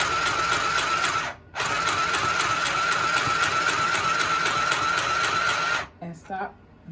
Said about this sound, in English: sew all the way down along the line, all the way to the end